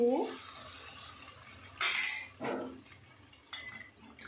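Water measured out by the cup splashes into a pot of rice in short separate pours, each a brief gush followed by a pause, fairly close and moderately quiet.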